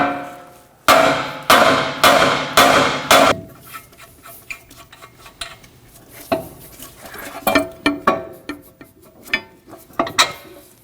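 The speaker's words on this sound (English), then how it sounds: "Now we're going to strike the knuckle right on the end here by the tie rod using a hammer." Five loud metallic hammer blows ring out in quick succession on the steering knuckle of a 2016-2022 Honda Pilot, near the tie rod end, followed by quieter clinks and scattered light metal taps.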